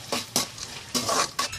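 Dry coconut frying on low flame in a pan while being stirred: four short spoon scrapes and clinks against the pan, close by, with a faint sizzle between them.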